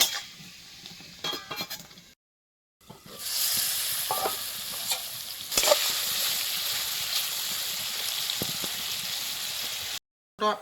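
Mutton in spiced masala sizzles in a pan while a utensil stirs and scrapes it, with occasional clinks and two brief silent breaks, heard up close.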